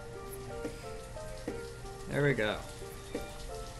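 Steady patter of rain in the city-building video game Banished hisses softly throughout, with scattered game interface tones and a short spoken remark over it.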